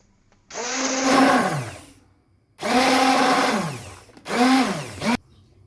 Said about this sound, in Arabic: وليت تضربها بالباتور